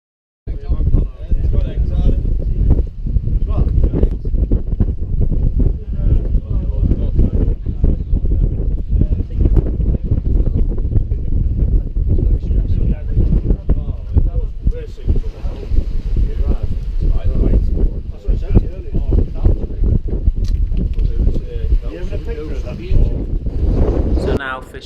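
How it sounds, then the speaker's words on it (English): Strong wind buffets a fishing boat at sea off Anglesey after dark, a loud, continuous roar of gusts and rumbling wind noise on the microphone that lasts throughout. "the wind's picking up"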